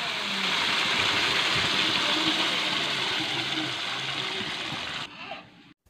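Boiled masoor dal and bottle gourd poured into a hot pan make a loud, continuous rushing gush of liquid for about five seconds, ending abruptly.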